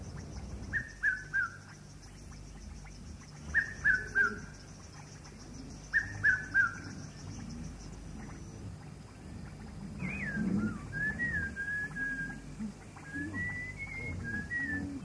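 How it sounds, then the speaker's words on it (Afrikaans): A red-capped robin-chat (Natal robin) sings in the open, with repeated bright whistled phrases in short bursts, then a longer run of varied warbling notes, over a low rumbling background. "Een van die beste sangers en die beste nabootser in die hele Afrika, dis die klein Natal lawaaimaker."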